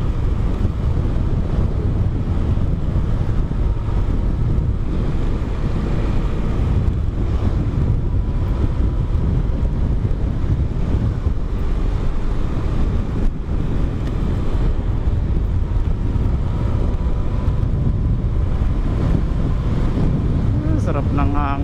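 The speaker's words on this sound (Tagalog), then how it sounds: "Sarap ng hangin, umahampas sa dibdib." Steady wind roars and buffets across the microphone as an MXi125 motorcycle rides along on stock-size tires. The rush is loud and continuous, with a low engine drone beneath it.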